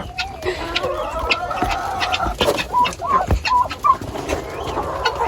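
Chickens cluck and chirp nearby with short clucking calls over a busy background of rustling and knocking while a rooster is sought; no clear full crow is heard.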